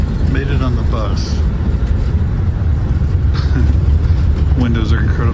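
Steady low rumble of a moving city bus heard from inside, with continuous engine and road noise filling the low end while people talk nearby throughout.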